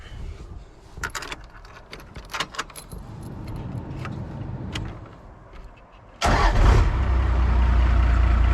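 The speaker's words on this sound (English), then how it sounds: "I'm gonna start the truck up" Keys jingle and rattle up close for several seconds, then a first-generation Cummins diesel truck engine cranks and catches, settling into a loud, steady rumbling idle.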